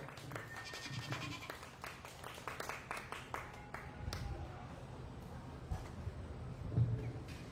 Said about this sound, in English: Let's give a nice big round of applause for a job well done.